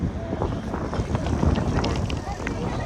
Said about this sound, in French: Il y a un vent de fou, mais il fait hyper chaud.